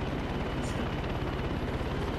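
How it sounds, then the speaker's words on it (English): Helicopter in the video game Far Cry 6, heard from inside the cabin: a constant loud rotor thrum with rapid low beating, steady throughout with no speech. "Rare instance where we're not flying a helicopter, but we're in it."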